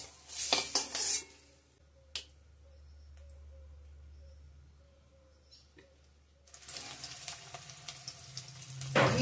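Fried eggs in a pan being stirred, with loud sizzling and scraping bursts at the start and end and a quieter lull between, plus a few clinks of utensils.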